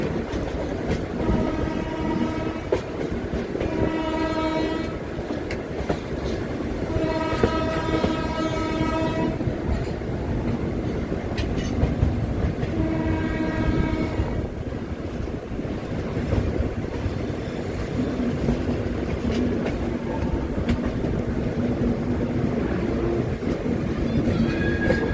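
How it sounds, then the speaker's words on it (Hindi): The 14120 Dehradun–Kathgodam Express rolls past with sustained wheel clatter and rumble, while its horn sounds in several long blasts in the first half. Wind buffets the microphone throughout. "देहरादून से चलकर काठगोदाम की ओर जाने वाली 14120 देहरादून काठगोदाम एक्सप्रेस।"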